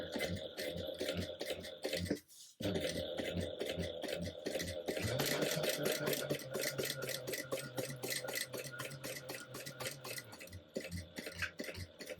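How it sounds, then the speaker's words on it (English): Sewing machine running top stitching around fabric, a fast steady mechanical ticking and whir that pauses briefly then resumes at a steadier pace, close and moderately quiet. "Top stitch length, go all the way around, no back stitching."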